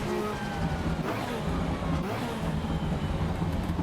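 Engine noise from a racing car in the game Assetto Corsa Evo, revving and shifting down with steady harmonic whine and rumble, loud and continuous.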